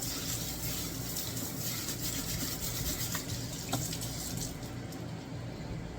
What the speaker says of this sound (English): I'm just going to rinse them off in some cold water